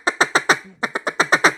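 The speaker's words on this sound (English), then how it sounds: "you can blow that single feed cluck or that single feed cut pretty confidently" A duck call blown in a rapid feed-cluck rhythm, a string of about ten short, sharp quacking notes in two bursts with a brief pause between, loud and close.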